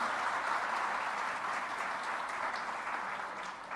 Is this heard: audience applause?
yes